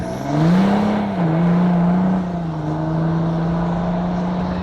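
A tuned EcoDiesel truck driving, its engine a steady droning tone that rises briefly, dips, then settles into an even hum, fairly close with no talking.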